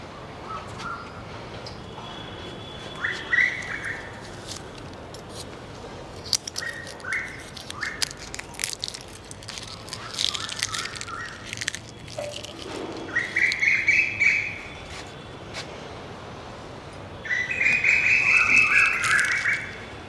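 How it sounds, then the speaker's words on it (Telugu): Birds chirp and call in a rooftop garden among mango and apple trees, with short bursts of tweeting that come and go and a denser, louder flurry of calls near the end over a steady outdoor background. "పక్షుల సందడి చాలా బాగున్నాయి"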